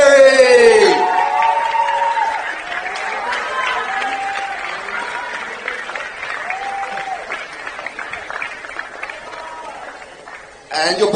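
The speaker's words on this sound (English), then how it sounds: "And in second place, please put your hands together for Omar Elzoheiry." Audience applause at an award ceremony for a junior tennis tournament at Frans Otten Stadion in Amsterdam. A voice speaks at the start, then a crowd claps steadily with a few scattered calls, fading slightly before another voice returns at the end.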